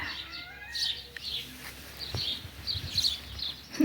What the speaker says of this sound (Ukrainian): Як пташки зранку співають, радіють сьогоднішньому дню.